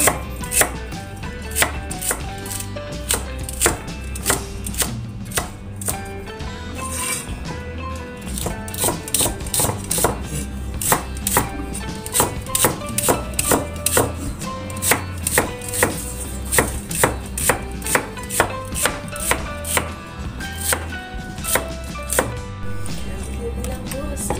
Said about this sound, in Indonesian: di sini kita rajang terlebih dahulu batang seledrinya